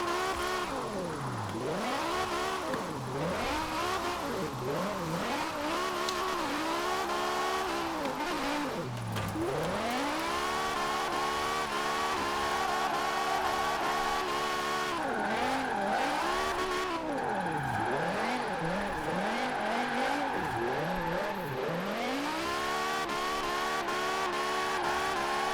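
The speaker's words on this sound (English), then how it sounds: "that gives us a chance to listen to the engine more." A BMW Z4 drift build in Forza Horizon 4 revs hard and steadily, its engine pitch sweeping up and down through repeated gear changes and slides, loud and continuous with tire squeal mixed in.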